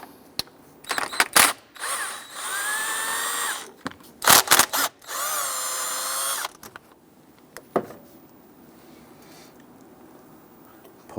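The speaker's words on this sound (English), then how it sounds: "Loosen and remove our two 10mm bolts on our thermostat housing." A power tool whirs in two bursts while removing the two 10mm bolts on the thermostat housing of a 2011-2021 Jeep Grand Cherokee, close and loud, with clicks and handling noises between runs.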